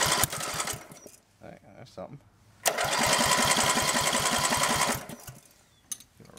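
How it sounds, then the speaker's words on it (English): A homemade wood splitter engine cranks with rapid chugging, stops briefly, then catches and runs in a loud steady putter for about two seconds before cutting out, with someone speaking briefly. "So now we're gonna try to get it started."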